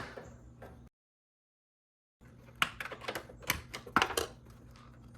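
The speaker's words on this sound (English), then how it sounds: "Now I'll remove this trim cover." A trim cover comes off a Porsche 991.1 during a rear diffuser install. After a brief silence, a quick run of quiet plastic clicks, snaps and taps follows, close by.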